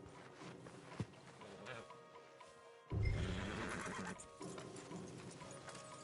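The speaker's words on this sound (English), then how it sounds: "Marston, you're gonna tether him up to Javier's horse." A horse whinnies loudly and clip-clops nearby in the Western video game Red Dead Redemption 2, over ambient game sound, with a man's speech in the background.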